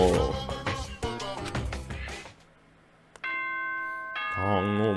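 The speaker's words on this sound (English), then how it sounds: "I just love the morning bell." Morning bell chime in the video game Danganronpa Trigger Happy Havoc rings out as a clear sustained bell tone after a burst of talking, then a voice returns over the ringing.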